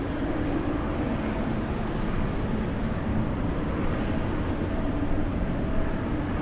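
A Boeing 777 on the runway at Anchorage airport, heard as a steady, loud broadband engine rumble that holds evenly throughout with no breaks.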